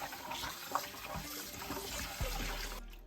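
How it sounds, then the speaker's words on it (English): Tap water runs while raw chicken is rinsed in a kitchen, a fairly quiet splashing trickle with uneven spatters and a few thuds, cutting off abruptly near the end. "Next thing is just rinsing everything out."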